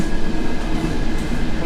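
A packed commuter train carriage rumbles along at speed, its wheels and body giving a loud, steady clatter throughout.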